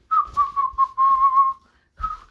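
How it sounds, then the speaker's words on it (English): An anime character whistles a clear, wavering tune up close, a run of short and held notes with a brief pause before the melody resumes. "Asta's whistling at the same time"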